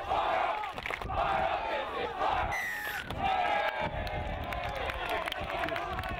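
A rugby schools match crowd, Toowoomba against Ipswich, chants and cheers loudly throughout, a dense roar of many voices with rhythmic shouting and calls rising and falling over the whole stretch.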